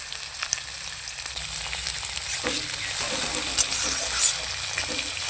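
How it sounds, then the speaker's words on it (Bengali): Chopped onions fry in hot oil with dried chillies and mustard seeds, giving a steady, fairly loud sizzle with scattered crackles and occasional stirring scrapes, no voices. "এখন পেঁয়াজগুলোকে একটু লাল লাল করে হালকা ভেজে নেব।"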